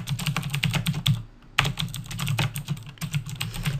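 Rapid keystrokes on a computer keyboard, entering a business name and address, with dense clattering taps and a brief pause midway, close and fairly loud over a low hum.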